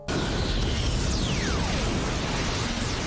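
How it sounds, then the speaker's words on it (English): An anime explosion from a huge beam of light bursts in suddenly and roars on as a loud, dense, steady blast with a falling whistling tone, and no talk. "creating a huge beam of light that swings at him, causing an enormous explosion"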